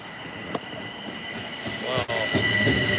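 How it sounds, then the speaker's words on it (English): Bombardier M7A commuter train passing at Fordham station gives a continuous rail rumble with wheel squeals and rhythmic clicks, close and fairly loud, without speech. "And it's a Bombardier M7A."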